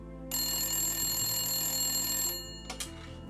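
A telephone rings in a single long electronic trill lasting about two seconds, loud and close, followed by a couple of short clicks as the ring cuts off.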